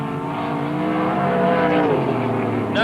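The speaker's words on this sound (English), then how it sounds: "2 cars coming together as they work their way down the back straight." Sprintcars race down the back straight at Parramatta City Raceway in 1987, a loud continuous engine roar that rises in pitch as the cars accelerate together, with no voices over it.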